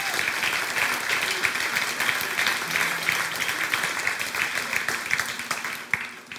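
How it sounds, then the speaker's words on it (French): A church congregation applauds together, sustained clapping that holds steady for several seconds before easing off, heard from within the room, with a faint voice underneath. "tu devrais dire « Amen » puis applaudir"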